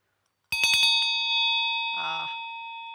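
A newly made small bell is rung for the first time, giving a few quick bright clangs that settle into one long, clear ringing tone, while a voice speaks briefly over the fading ring.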